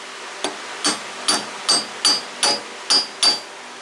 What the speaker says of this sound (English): I got the keyways lined up and tapping that in